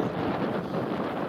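Steady, rushing wind roars against the microphone at a fishing pond in a dense, low buffeting noise, loud and continuous with no other sounds.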